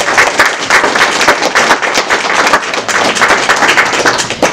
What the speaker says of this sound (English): Could we give a round of applause once again?